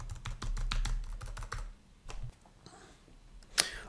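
Computer keyboard keys pressed in quick bursts while working Visual Studio shortcuts, with a run of fast clicks at first, then sparser taps and one sharp louder click near the end, close and clear.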